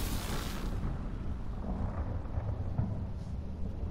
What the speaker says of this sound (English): It's lightning.